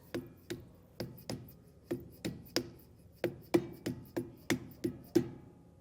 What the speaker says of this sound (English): give it some light taps with the hammer